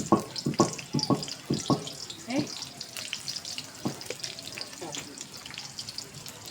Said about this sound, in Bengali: এখন এটা ভাজে নিব দেখি।